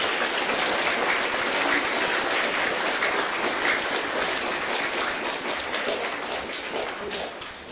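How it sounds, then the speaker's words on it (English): Sustained applause from a school assembly crowd at Te Kura Mareko Casebrook Intermediate, a dense, even wash of many hands clapping that tapers slightly toward the end. "Please give them a round of applause."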